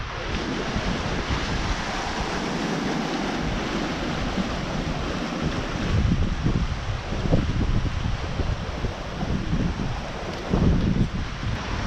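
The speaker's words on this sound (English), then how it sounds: "It's way too windy." Strong wind buffets the microphone at a seaside bay near Cathedral Cove in Coromandel, New Zealand, a steady roar with waves and surf underneath, gusting louder in bursts and heard alone without talk.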